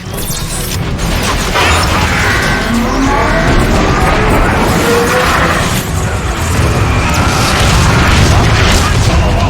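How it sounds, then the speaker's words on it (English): Heavy booming explosions and rumbling battle noise from an artillery strike in Transformers: Fall of Cybertron, loud, dense and continuous, with mechanical clanks and a voice speaking partway through. "Optimus, how about calling in an artillery strike?"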